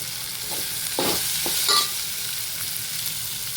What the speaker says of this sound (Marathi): आता मीठ टाकून ना थोडासा कांदा भाजून घ्यायचा.